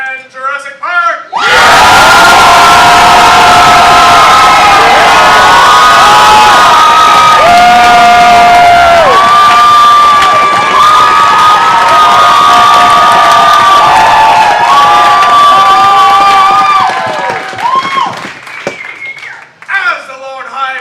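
A large crowd cheers and shouts loudly and continuously, with whoops and clapping mixed in, swelling for most of the clip before fading out.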